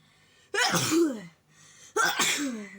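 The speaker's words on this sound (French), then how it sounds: "Faut que j'éternue." A man with a cold sneezes twice, each burst sharp and close with a breathy intake and a voiced trailing tail, the two sneezes about a second and a half apart, no other talk.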